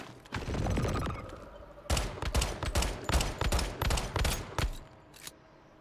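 Rapid bursts of gunfire ring out while enemies are shot in the survival game Once Human: a sustained automatic spray, then a run of clustered shots separated by short gaps, fairly close with no voices over it.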